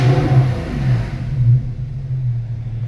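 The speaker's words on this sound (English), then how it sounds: "I'm gonna rev it." A Porsche 991 Carrera S fitted with a Soul Street exhaust package revs from inside the car with the windows down, giving a deep throbbing burble with repeated blips that settles into a low steady idle rumble.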